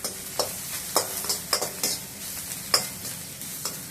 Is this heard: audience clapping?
no